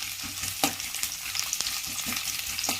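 Chopped ginger and garlic fry in hot oil in a pan for a homemade red pizza sauce, a steady close sizzle broken by irregular stirring scrapes and light clicks of a spoon, with no voices.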